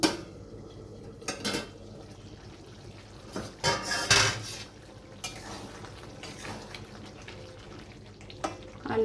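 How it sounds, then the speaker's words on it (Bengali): Metal lid lifted off a cooking pot of boiled elephant foot yam and potatoes, with a few close clanks and scrapes of metal between quieter kitchen sounds. "এবার আমি ঢাকনাটা খুলে দেখে নিচ্ছি"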